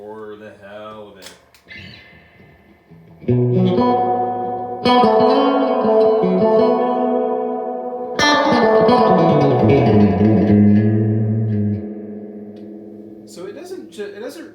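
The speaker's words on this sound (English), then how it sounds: "One of the better spring reverbs I've ever heard. Let's crank it all the way up just" Guitar through a Mesa Boogie California Tweed amp with its spring reverb turned all the way up, sustained chords and bends ringing with a long splashy echo, and a voice speaking briefly at the start and end.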